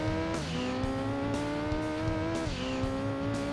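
A green Citroen Saxo drives a rally stage in Gran Turismo 2, its engine buzzing at steady high revs with brief dips at gear changes, tires hissing over loose gravel, loud and close.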